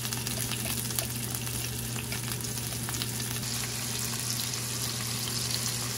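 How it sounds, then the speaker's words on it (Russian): Meat frying in a pan on a stovetop, a steady dense sizzle with crackling spatters running throughout over a low constant hum, close and unbroken, no voices. "Еще жарю."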